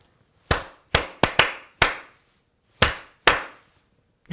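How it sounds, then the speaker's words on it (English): Single hands clap out a short two-measure rhythmic phrase: eight crisp, close claps in an uneven pattern with well-placed rests between groups, each one dry and isolated against silence. "First I'm going to clap it for you and then I'm going to play it for you."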